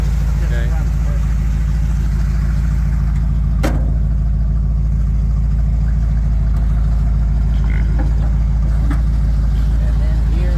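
A Bombardier wide-gauge machine with an Edelbrock 4-barrel carburetor idles steadily with a deep, even low rumble, loud and close, with a few faint clicks and knocks over it.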